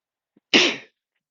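A single sharp human sneeze, close and loud, preceded by a tiny breath and then ending in silence.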